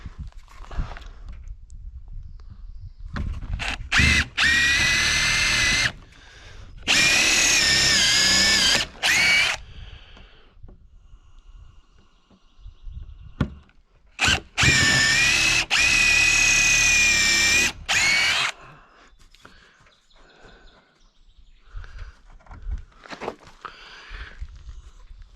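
A power drill countersinks bolt holes in wood, sounding in two long, loud whining bursts of several seconds each, with shorter runs before and between them and quieter handling noises in the gaps, with no talking.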